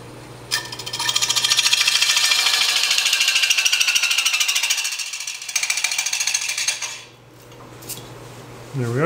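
A wood lathe turns a workpiece as a thin parting tool cuts into it, giving a loud, steady scraping chatter that drops away briefly and then resumes, with the lathe's hum running underneath throughout.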